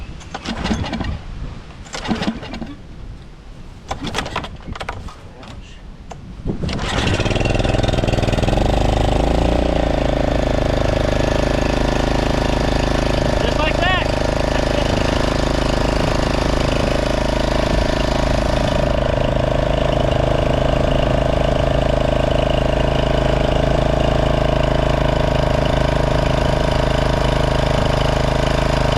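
A wood splitter's small engine cranks with a few sputtering bursts on choke, then catches and settles into a loud, steady idle that drones on without letup.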